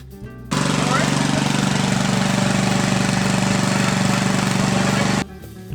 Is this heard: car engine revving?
yes